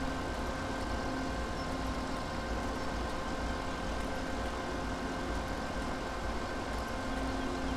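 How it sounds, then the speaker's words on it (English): A Fendt 939 tractor engine in Farming Simulator 17 drones at a constant, moderate level while picking up grass, a steady low rumble with no talking. "course, using the Fendt 939 for that"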